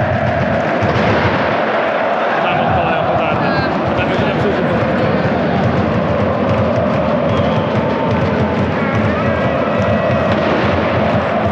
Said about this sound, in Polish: Kibice gospodarzy już odpalają petardy hukowe